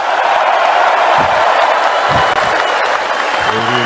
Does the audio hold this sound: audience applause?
yes